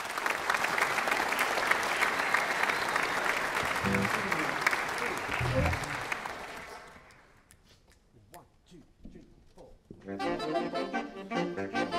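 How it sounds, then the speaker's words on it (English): An audience at a secondary school awards celebration applauds a school big band, dense clapping at full strength for several seconds before fading, then a fresh burst of clapping near the end. "Please give a warm round of applause to the St."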